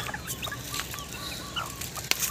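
Newly hatched chicks peep in soft, scattered high chirps over a quiet hiss of background noise, faint and close, with no one speaking.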